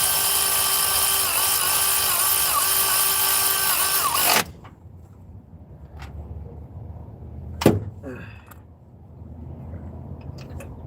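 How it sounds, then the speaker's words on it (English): A socket wrench drives a bolt on a pickup truck: a loud, steady whirring runs for about four seconds, then stops abruptly, leaving quiet shop noise and a single sharp clank. "Go back with my socket."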